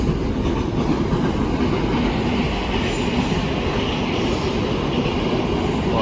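Loaded Freightliner container freight train passing at Barking on the LTSML and Gospel Oak to Barking lines, a loud steady rumble of wagons rolling close by on the rails with faint wheel squeal.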